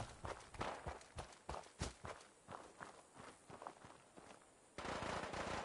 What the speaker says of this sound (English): I think it's a Mr. Handy that's shooting